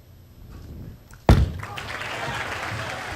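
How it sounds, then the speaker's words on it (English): A bowling ball crashes into the pins for a strike at the 2007 PBA US Open, one sharp loud impact followed by rattling pins and a swelling crowd. "There's a late hit on the 10-pin. Yes, he will. Jeff Carter a strike."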